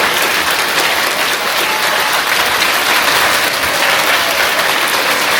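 Students clapping together in a classroom, a dense, loud, sustained burst of applause with no break.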